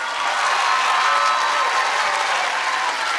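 Steady, loud applause from an audience at a graduation and certificate ceremony, a dense even wash of many hands clapping throughout with no speech over it.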